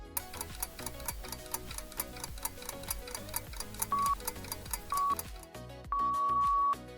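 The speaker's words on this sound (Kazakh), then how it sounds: "Сағаттың шықылдауы." A steady, evenly spaced clock tick repeats throughout, crisp and fairly quiet, with soft tonal music beneath it.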